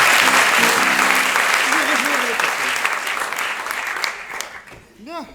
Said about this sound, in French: Bravo, applaudissons.